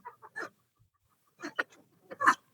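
Native free-range chickens on a small poultry farm, several short clucks and squawks in bursts with quiet gaps, fairly close and moderately loud.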